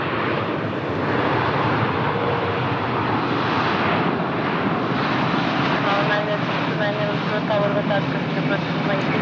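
A Finnair airliner from Finland at Lisbon Airport makes a steady, loud jet roar that stays close throughout, while a person talks faintly beneath the engine noise.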